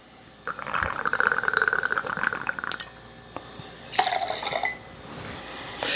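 Milagro Blanco tequila is poured into a margarita. A steady liquid trickle runs for about two seconds and stops, then a brighter splash and clink of glass follows, with no talking.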